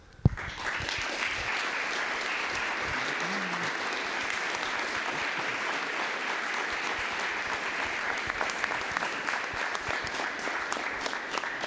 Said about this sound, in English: Let's please give one more round of applause to our winners